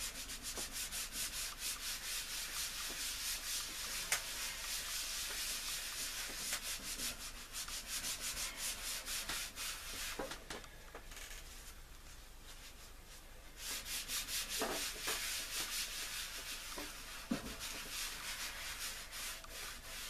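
A PC case being scrubbed of grease and grime makes steady, close rubbing and scraping strokes. The strokes come in quick repeated bursts, drop off briefly midway, then resume.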